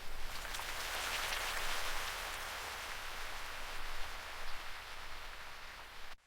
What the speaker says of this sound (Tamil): அப்போ திடீர்னு மழை சாரலு